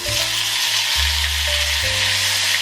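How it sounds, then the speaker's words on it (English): Shrimp fry in a hot pan with a loud, steady broadband sizzle that runs the whole time, while a low hum shifts in pitch underneath; no one speaks. "fry up the shrimp right now"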